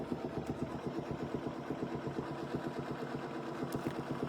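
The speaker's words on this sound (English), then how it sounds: "we'll just put our extra tacking stitches where we already have extra stitching right there" A sewing machine runs steadily while stitching quilting lines on a crosshatched quilt, its needle clattering in a fast, even rhythm close by. No one speaks.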